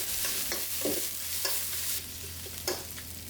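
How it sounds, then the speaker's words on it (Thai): Sliced fingerroot sizzles in curry paste in a wok for Thai spicy stir-fried catfish, a steady hiss punctuated by several sharp scrapes and clinks of a spatula stirring, close and alone. "จากนั้นใส่กระชายนะคะ เป็นกระชายซอยนะคะนำมาผัดก่อนให้กลิ่นกระชายหอมฟุ้งเลยค่ะ"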